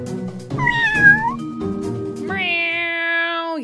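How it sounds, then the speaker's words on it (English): A cat meows several times up close, drawn-out wavering cries with one long, sustained plaintive meow at the end, loud and clear with no talking over it. "Meow. Meow."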